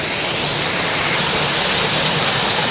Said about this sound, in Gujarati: આ કુદરતી નળ કહેવાય